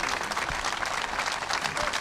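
A crowd applauds Giuseppe Scopelliti at a public gathering, a brief, thick burst of continuous clapping from many people, fairly close and even in loudness.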